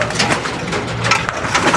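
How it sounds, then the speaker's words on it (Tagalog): Pigeons flutter and peck nearby, with soft coos and scuffling amid a busy, close rustling of wings and feet. "pakainin ko muna sila. Mga gutom na ibon."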